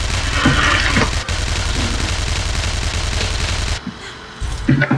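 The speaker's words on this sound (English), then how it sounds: "Burst fire." Gunner's burst fire in the online game Tera, a dense, continuous rattle of rapid gunshots that runs loud and steady before cutting out, then a few more sharp shots at the end.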